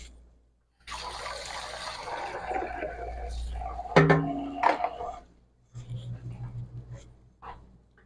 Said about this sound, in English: Rinse this off again.